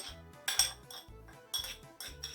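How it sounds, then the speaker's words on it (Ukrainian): A utensil scrapes and knocks around a bowl mixing flour, sugar and other dry ingredients for yeast dough, about five rhythmic passes, close and fairly soft, with no talking. "І гарно змішую всі сухі інгредієнти."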